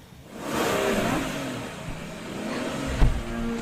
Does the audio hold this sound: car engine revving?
yes